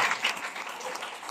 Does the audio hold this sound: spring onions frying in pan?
no